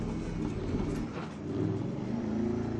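A car pulls away off a dusty track in rural Colombia, its engine a steady close rumble that swells slightly as it drives on, with no voices.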